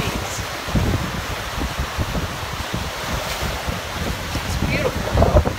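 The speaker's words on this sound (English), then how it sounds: "It's very windy and cold." Blustery wind rumbles across the microphone on a chilly Lake Michigan beach while waves wash and break along the shoreline, the gusts rising and falling in uneven surges.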